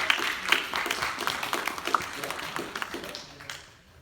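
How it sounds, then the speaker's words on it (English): Choir members and concert audience clapping at a spring chorus concert, a lively patter of hands that gradually thins and fades out toward the end. "Give yourself a round of applause."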